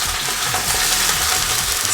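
Lamb browning in a pressure cooker, a steady bright sizzle and crackle of frying meat filling the whole moment without a break.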